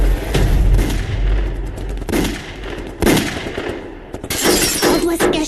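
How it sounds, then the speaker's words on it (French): Gunfire erupts in a dramatized shootout: loud, sharp bursts of shots come repeatedly and close, with brief pauses between volleys. "Il y a une fusillade, dépêche-toi."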